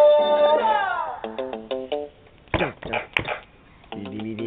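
A dog whimpers and yips in a run of high, falling cries, with a few short barks in between, close by and fairly loud.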